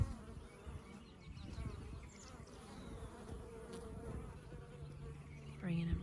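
Bees buzz steadily at close range as they carry white pollen from flowering white willows into the hive, a continuous drone holding through the whole stretch with no talk.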